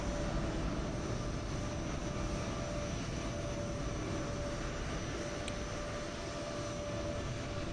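An aircraft departing Edinburgh in Microsoft Flight Simulator 2020 makes a steady, continuous engine roar with a faint whine on top, holding an even level throughout, with no voices.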